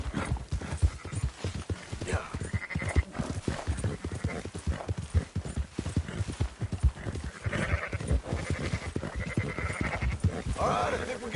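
Sheep bleating in the Red Dead Redemption 2 video game amid a herd being driven, with dense hoof clip-clop from horses throughout and a few bleats rising above the steady trampling.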